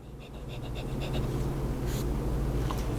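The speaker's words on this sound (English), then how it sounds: "I like the way this nib writes" A heavy oversized metal fountain pen with a medium nib writing on paper, a soft, close scratching with short rhythmic strokes at first, then a faint continuous scrape over a low room hum.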